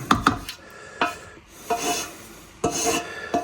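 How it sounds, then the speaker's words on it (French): Rough scraping strokes of a spatula gathering cheese in a saucepan for mac and cheese, several short rasping passes with pauses between them, close by and moderately loud. "On ramasse bien tout le fromage dans notre casserole."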